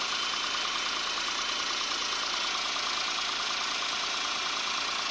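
A Toyota Wigo car engine, 2024 model, idles steadily and loudly up close, a constant mechanical drone with a faint knocking texture and no voices.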